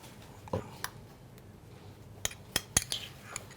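A mixture is whisked in a bowl, heard as quiet, irregular metallic clinks and taps of the whisk against the side, a few sharper strikes standing out near the end.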